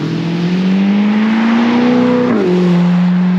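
A 2022 Corvette with an aftermarket exhaust rumbles past at moderate distance, its steady engine drone rising slightly in pitch then dropping as it shifts and moves away, loud and continuous.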